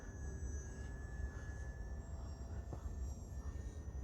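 An MXS-C RC plane's electric motor runs at full throttle on a 3S battery, giving a steady thin whine with faint tonal lines over low wind rumble, distant and fairly quiet throughout.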